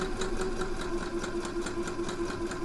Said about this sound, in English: this is my second line that I'm doing